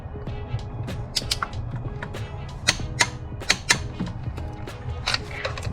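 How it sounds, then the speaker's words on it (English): A ratchet wrench tightens a spark plug on a Genesis G70 or Kia Stinger 3.3T engine, giving a run of sharp, close mechanical clicks in an uneven rhythm over a low background hum. "go slow till that click comes."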